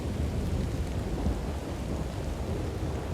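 A thunderstorm rumbles continuously, with low rolling thunder blended into a dense wash of heavy rain, steady and loud throughout with no voices.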